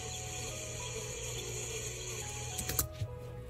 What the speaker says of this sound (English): you can even hear bees buzzing around.